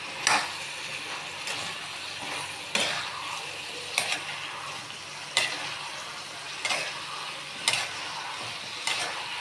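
Brinjal and amla curry being stirred in a pan, a soft continuous sizzle broken by regular scraping strokes of a spatula against the pan every second or so, close and moderately loud.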